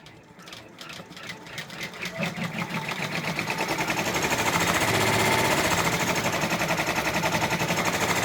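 A Brother embroidery machine stitching a freestanding gingerbread village bridge, its rapid steady needle chatter rising in loudness and then running continuously and close without talk.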